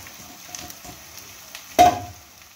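Marinated chicken paste hits hot spiced oil in a pan and frying begins, with a sudden loud sizzle burst that tapers off after a quiet stretch of faint stirring and crackle.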